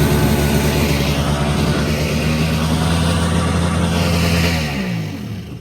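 A restored cheap jet ski engine runs loud and steady with a sticking throttle, its drone holding at high revs before dropping away near the end.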